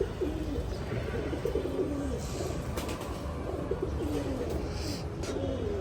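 Several pigeons coo in repeated soft, low rolling phrases, close by, before being sent off by bus, with steady background hum and no talk.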